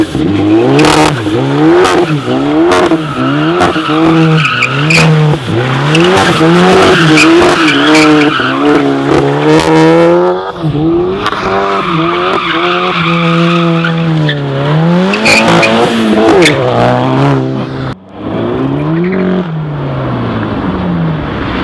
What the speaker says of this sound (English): Donuts around the cone.